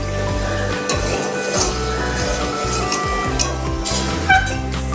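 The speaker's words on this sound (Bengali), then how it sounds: "এবার আমি একটু জল দিচ্ছি।" Water poured into a hot pan of ground coriander and cumin paste for an egg curry with raw mango, giving a steady hissing sizzle with small bubbling spits throughout, close and moderately loud.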